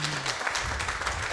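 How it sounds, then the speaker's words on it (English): Brief audience applause at an evening design talk, a short burst of scattered clapping from the room mixed with faint murmur. "just a round of applause for this man."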